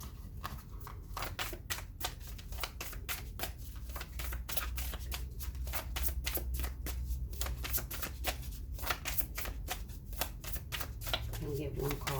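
Tarot cards are shuffled continuously at close range for a reading, a dense, steady riffling flutter of card edges that runs through the whole stretch.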